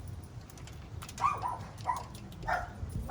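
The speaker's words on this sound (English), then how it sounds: "You hear those dogs over there barking." Faint dogs bark a few times in the distance over a low background rumble.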